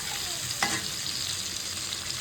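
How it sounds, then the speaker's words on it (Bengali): Lightly salted, turmeric-boiled jackfruit pieces frying in oil for jackfruit biryani, a continuous close sizzle with a brief stirring scrape partway through. "এই যে এখন তেলে ভালো করে ভেজে নিচ্ছি।"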